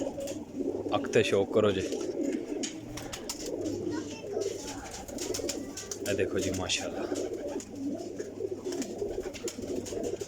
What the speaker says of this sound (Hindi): बहुत ही नीट अख दा कबूतर है